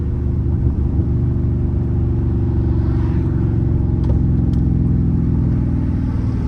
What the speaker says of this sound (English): He was hitting the gas though.